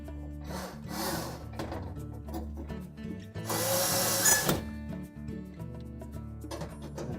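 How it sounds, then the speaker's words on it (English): A retaining screw being driven into the mounting bracket of a GE range oven during a broil element replacement, with a steady whir of a power driver and a louder burst of grinding in the middle, close up and with no talking. "we'll install the retaining screw for that mounting bracket"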